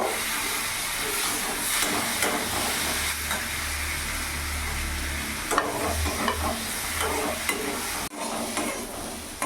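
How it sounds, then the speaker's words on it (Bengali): Cut potatoes fry in hot oil, giving a loud, continuous hiss and sizzle with bursts of crackle, a low rumble underneath and a brief clatter near the end. "এরই মধ্যে আমি কেটে রাখা আলুগুলো ভেজে নেব।"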